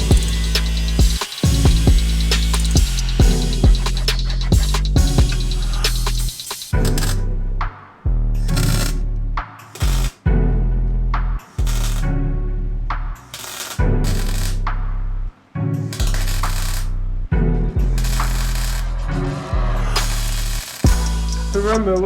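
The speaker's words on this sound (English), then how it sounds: "I know I'm welding this with a MIG, I haven't got a TIG" A MIG welder tacks a custom exhaust pipe for a 700HP MK4 Supra, giving loud, close bursts of crackling hiss, each a second or two long, broken by short silent pauses.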